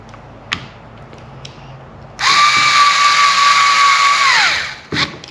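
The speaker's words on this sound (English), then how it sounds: "And now we're going to go ahead and tighten that screw again." A power drill tightens a screw on an Old Town Predator Bigwater 132 PDL kayak pedal drive handle: after quiet clicks, a loud whirring burst lasts about two and a half seconds, then winds down, followed by a short clunk.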